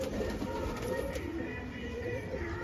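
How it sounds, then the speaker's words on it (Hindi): A tera pigeon coos softly and repeatedly nearby, low throaty calls rolling over a steady background hum. "तो दोस्तों ये है मेरा तीरा कबूतर"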